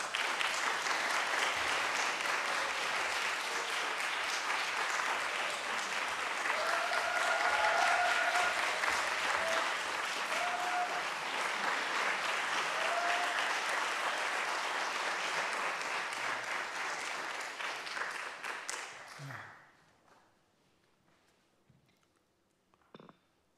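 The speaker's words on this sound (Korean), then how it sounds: "박수로 맞이해 주시기 바랍니다." A concert audience claps steadily to welcome pansori performers, a singer and a buk drummer, with dense, sustained applause that holds for about twenty seconds before it fades quickly to quiet.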